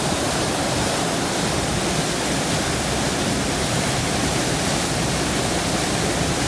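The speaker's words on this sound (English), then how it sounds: "It is by Lakeland standards a small waterfall with a drop of less than 5 metres" Skelwith Force, a small Lake District waterfall with a drop of under five metres, gives a constant close rush of falling water, loud and even throughout with no break.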